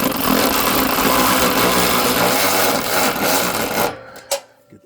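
A power ratchet runs loud and close, tightening running board bracket bolts on a Jeep Gladiator with a continuous buzzing, rattling whir for about four seconds, then stops with a couple of short clicks.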